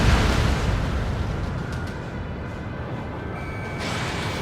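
Missiles launch and explode in the jet combat game Ace Combat 7 as a heavy, continuous low rumble with a broad blast roar that swells and eases over several seconds, loud and without speech.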